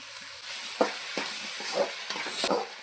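Chopped tomatoes hitting hot oil in a pan for a pepper fry, a steady sizzle with several sharp stirring scrapes spaced through it, close and fairly quiet.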